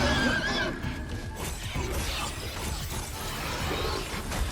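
A spectral steed horse in God of War Ragnarök gives a clear whinny near the start, layered with game effects, rumbling hooves and a shattering clatter that carry on throughout.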